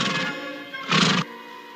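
A horse neighs in a Western ranch setting, a long whinny that starts high and wavering, dips briefly, then surges into a louder, breathy burst before cutting off, close and clear.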